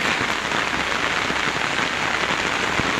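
Heavy rain pours down outdoors in a dense, loud, continuous roar of drops striking surfaces, with no break or voice over it.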